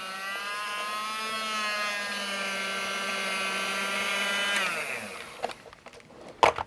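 DCC model locomotive running at full throttle with its wheels spinning on a cleaning cloth, a steady high-pitched motor whine that winds down near the end, followed by a few sharp clicks and knocks.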